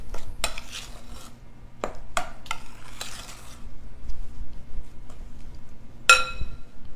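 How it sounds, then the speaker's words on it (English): A spoon stirs sweet potato pie filling in a bowl, giving scattered clinks and scrapes against the dish with a few sharper taps and soft background rustle, fairly close and without talk. "Now I'm going to swap off and use a spoon. Just mixing this around."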